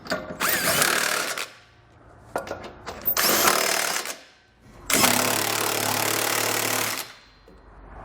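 Power tool snugging hardware with a 19mm socket while a trailer hitch is mounted on a 2012 Nissan Rogue, in three loud close bursts of whirring and rattling with short pauses between them.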